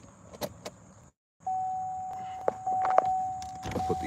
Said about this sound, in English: Put these windows down.